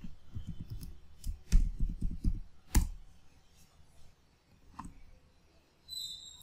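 Quiet computer mouse clicks and keyboard taps while installing Debian 12.5 in VirtualBox, a quick cluster of clicks early on, then two sharper clicks and sparse faint taps, close and alone with no talking.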